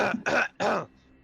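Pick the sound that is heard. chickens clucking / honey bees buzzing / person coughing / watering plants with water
person coughing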